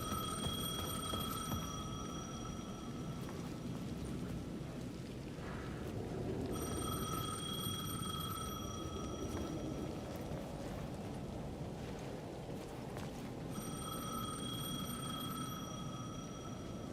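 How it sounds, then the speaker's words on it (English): A payphone at the edge of a plaza in the Alan Wake II game rings in three long bright electronic bursts separated by pauses, over a low rumbling ambient drone. "The payphone at the edge of the plaza was ringing again."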